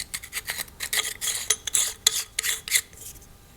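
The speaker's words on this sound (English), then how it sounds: "Now select the new Nemo buffer tube and install the castle nut onto the tube" A castle nut threaded by hand onto a new Nemo rifle buffer tube, giving dry metallic rasping and scraping in short irregular bursts, close and fairly quiet, with no talk.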